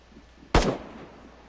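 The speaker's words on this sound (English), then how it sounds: "I just heard a gunshot." A single sharp gunshot cracks out once, fairly close, from outside near a house's front door, then decays into quiet room tone with no speech.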